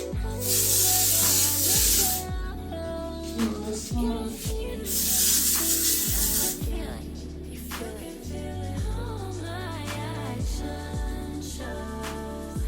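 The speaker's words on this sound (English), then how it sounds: "So we're just gonna hairspray." An aerosol can of hairspray sprays onto curled, silk-pressed short natural hair with clip-in extensions, two long loud hissing bursts standing out over a song with singing that carries on throughout.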